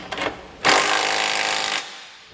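A power tool buzzes on trailer hitch bolts on a 2020 Honda Odyssey, using a 19mm socket, first in brief rattling bursts and then in one loud, steady, close-up run of just over a second before it stops.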